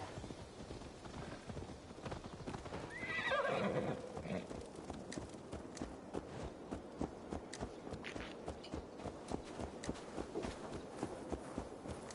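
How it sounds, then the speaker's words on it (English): A horse in Assassin's Creed Valhalla clip-clops at a walking pace, its hooves striking in a steady rhythm, with a brief whinny early on; no talking over it, moderately quiet overall. "Let's return the horse."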